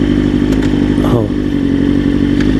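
A motorcycle engine idles steadily and loudly throughout, a low continuous rumble with a brief rising whine partway through; a rider with a suspected clutch problem mentions it, with no speech audible over the engine.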